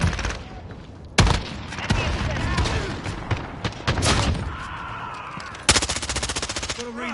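Call of Duty gunfire erupts in loud, close automatic bursts and single cracks with a sharp rapid volley near the end, while radio chatter and voices play between shots.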